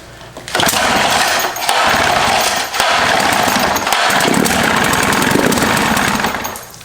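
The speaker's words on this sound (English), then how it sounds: "As you can tell, it really is not happy. It gets a bad backfire from something and kills it." A Johnson 25hp outboard motor runs rough and loud, a continuous harsh, uneven engine drone with brief dips and sputters where it stumbles and backfires, close up and without speech.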